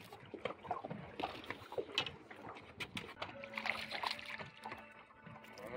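Fish being let go back into the sea off St Marks, Florida, with several soft, scattered splashes and sloshes of water, fairly faint and close by, with no talking.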